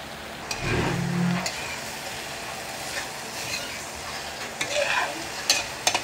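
An egg fries with okra in a pan, giving a soft steady sizzle. A brief scrape of stirring comes near the start, and a few light clinks of a utensil against the pan follow, with no voices.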